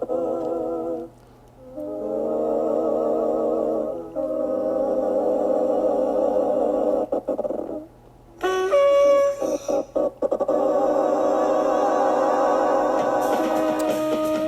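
Choppy, stuttering vocal chords with abrupt cuts and gaps over a steady low drone, glitchy edits breaking up sustained harmonized tones.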